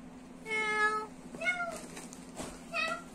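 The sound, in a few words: person imitating a cat meowing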